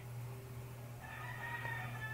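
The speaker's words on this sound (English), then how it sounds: "And I hear chickens. I know you can hear it too." Faint chicken calls from a Minecraft game rise over a low steady hum, a couple of soft drawn-out clucks in the background with no talk.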